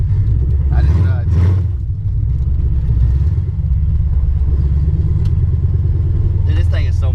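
A Ford Coyote V8 car running open headers rumbles loudly and steadily throughout, with a deep low-end drone; voices talk briefly over the engine noise.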